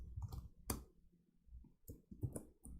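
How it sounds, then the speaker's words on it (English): Keys clacking on an Apple keyboard, a quiet scatter of irregular clicks and taps close by at low level, some sharper strokes standing out, no voices. "typing on an Apple Cardboard keyboard"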